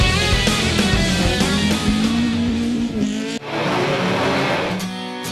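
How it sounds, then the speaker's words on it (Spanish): Race cars revving loudly at the start of a 2011 G-Series race in Andorra, a dense, continuous engine roar with rising and falling pitch, then a brief cut and renewed revving ending in a sharp buzzing rasp. "El semáforo se pone en rojo y los pilotos se preparan para dar gas."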